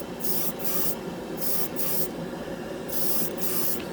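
A spray gun lays down Black 3.0 paint with a Spray Gunner 2D compressor running, repeated hissing passes of about half a second each over a constant low compressor drone, close up and without talk.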